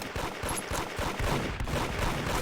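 Rapid gunfire in the Roblox shooter Arsenal, dense overlapping bursts of automatic shots firing continuously and loudly with no pause.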